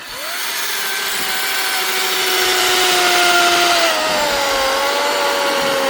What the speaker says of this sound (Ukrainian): Зараз покажу, як ріже лід